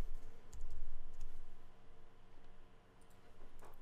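A few faint, soft mouse clicks on a computer while using Adobe InDesign, quiet and close, with light clicking scattered through a short stretch.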